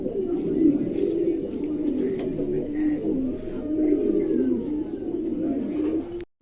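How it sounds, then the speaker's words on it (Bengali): Pigeons at a wholesale pigeon sale coo continuously, layered throaty calls from several birds close by, with a voice speaking faintly among them. "চমৎকার এক জোড়া কবুতর, দেখছেন?"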